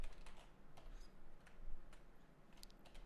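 Python code typed on a computer keyboard, quick soft clicks in uneven bursts over a low hum, quiet and close with no talking.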